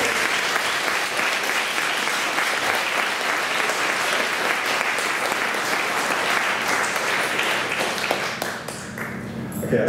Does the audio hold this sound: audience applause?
yes